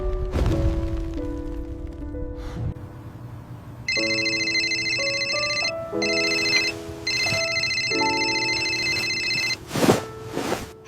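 A telephone rings at night with a melodic electronic ringtone: repeated tonal phrases and bright high chimes over a steady background hiss, close and clear, with a few thumps toward the end.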